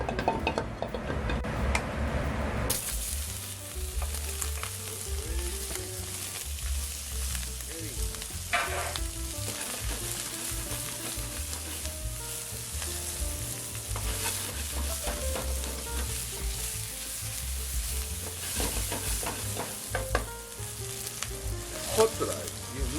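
Sausage fried rice sizzles in hot oil over a high flame, a steady crackling fry broken by scraping and clinking as the pan is stirred, with no voices.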